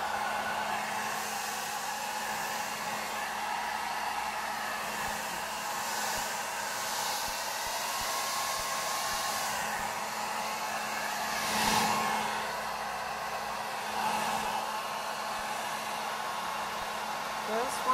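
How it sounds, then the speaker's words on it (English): A blow dryer on its low setting, held at a distance to warm chocolate wrapped around a decorated cake, gives a steady, even whirring hum for the full length with no voices. "you want to use low on your blow dryer, and you want to keep a good distance"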